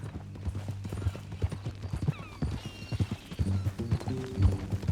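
Horse hooves clip-clop steadily in Red Dead Redemption 2, a brisk and fairly close rhythm of hoof falls over a low, continuous background hum, with no talking.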